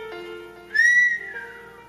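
A single rising whistle cuts in clearly for about half a second over a quiet background hum, then fades back down.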